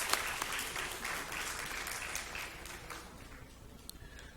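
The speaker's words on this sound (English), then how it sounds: "Give them a round of applause." Audience applause at a State of the City 2020 address in Opa-locka, steady clapping from a large crowd that gradually thins and fades toward the end, with no talking.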